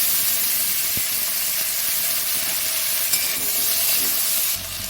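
Continuous crackling sizzle of cut potatoes and pumpkin dropped into hot oil in a frying pan with dried and green chilies, fairly close and steady, with no voices.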